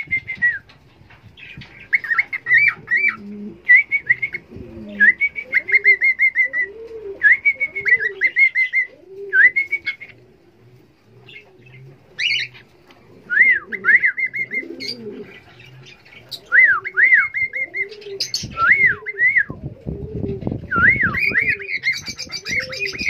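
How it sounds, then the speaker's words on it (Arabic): Pigeons coo in repeated soft, rolling phrases inside a nest during courtship, with higher chirps and some wing flapping mixed in; the calls are close and steady, with no talk, and a burst of rustling comes near the end. "يبدا نعمل لها نغمات جوه العش بيحفزها على التزاوج"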